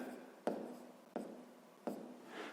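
Pen strokes of a math solution being written down on paper, with three sharp scratching bursts that each fade slowly, close and fairly faint, no voice.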